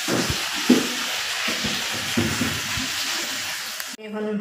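Food frying in a home kitchen, a steady close sizzle with stirring scrapes and soft knocks, running continuously before a brief voice at the very end.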